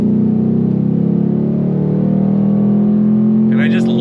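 A 2024 Ford Mustang GT's Coyote V8 holds a loud, steady burbling idle with a deep rumble close by, then a brief higher whir near the end.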